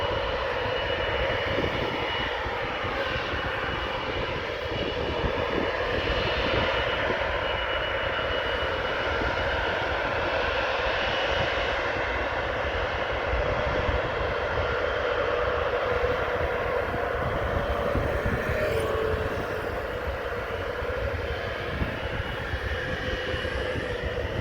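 KLM Boeing 777-200ER jet taking off at Amsterdam airport, a loud, steady, continuous engine roar heard from the runway side with no voices.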